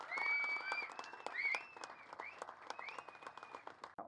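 Loud, continuous audience applause fills the hall at the launch event of Zee Telugu's daily serial Jayam, with whistle-like tones riding over the dense clapping.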